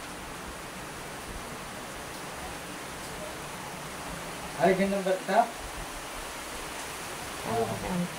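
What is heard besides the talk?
rain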